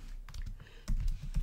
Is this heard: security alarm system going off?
no